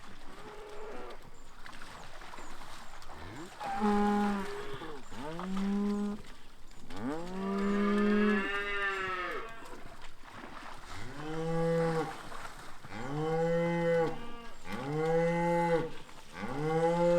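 Cattle on a farm near a creek moo repeatedly, long drawn-out calls from several cows one after another, fairly close and clear over a light outdoor background.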